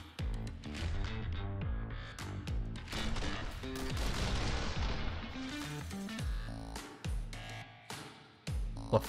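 Gunfire in the John Woo–style shooter The Hong Kong Massacre, dual pistols firing in rapid bursts amid a dense run of loud shots and impacts, with a few isolated bangs near the end.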